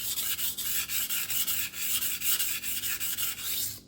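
A Fiskars chef knife is sharpened on the 400 side of a 400/1000 double-sided whetstone, making rhythmic gritty rasping strokes, about eight back-and-forth passes, close and steady with no talking.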